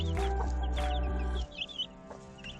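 A hen and her chicks in a chicken coop cluck close by, a steady low hen sound with high chick peeps over it, then quieter scattered peeping.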